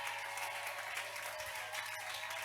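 A church congregation at a Sunday thanksgiving service claps and cheers. The applause is quiet and dense, holds steady for a few seconds and has a faint hum beneath it.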